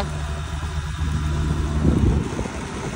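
A Honda Pal scooter engine runs steadily nearby, a low buzzing putter that swells slightly around the middle before settling back.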